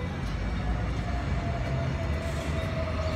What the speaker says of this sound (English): 207 and 208 now departing Lawnton platform 3 from all stations to Caboolture.